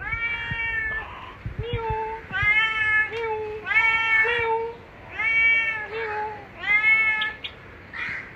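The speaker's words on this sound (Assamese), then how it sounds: "আজি বহুত ধুনীয়া ধুনীয়া মেকুৰী আছে মোৰ ওচৰত" Several cats meow close by in a series of about seven long, loud, drawn-out calls at a steady pace, with faint background noise between them.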